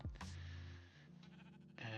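A sheep in a survival video game gives a single bleat, clear and close, followed by quiet game ambience.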